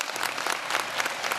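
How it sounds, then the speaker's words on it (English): A graduation ceremony crowd applauds Dr. Marksberry, an honored alumnus, with a dense, steady burst of many hands clapping, loud and continuous throughout. "Let's give a big round of applause for Dr."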